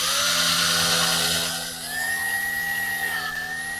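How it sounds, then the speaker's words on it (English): A high-pitched power drill whines steadily as it drills into a dried animal tail, its pitch dipping briefly midway before rising again and holding. "So we're actually gonna drill into there."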